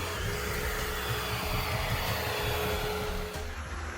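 A Wyze robot vacuum cleaner runs with a steady whirring motor drone and a faint tonal whine, holding an even level throughout.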